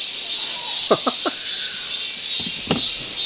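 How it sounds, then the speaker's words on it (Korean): Loud, steady cicada drone fills the upper range throughout, a constant high buzzing hiss, with a few short louder chirps and clicks breaking through near the middle and toward the end. "아, 매미 미치겠네. 아, 시끄러."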